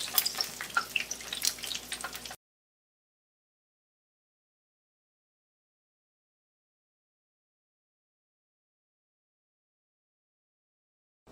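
Bhatura dough fries in hot oil as it is pressed and oil is spooned over it, giving a close, bubbly sizzle with small splashes for about two seconds, followed by silence.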